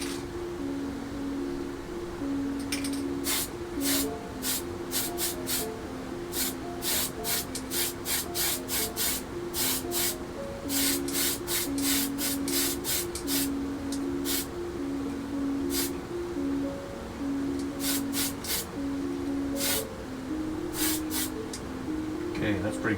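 Paint sprays in short repeated bursts onto a Tamiya 1/32 scale F-51D Mustang plastic model, a close steady hiss broken into quick pulses over a constant background hum.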